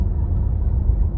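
A car driving to work on a weekday, its engine and road noise forming a steady, loud, low rumble close by, with no talk.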